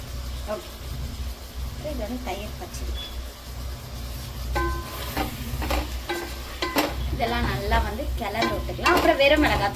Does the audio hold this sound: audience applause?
no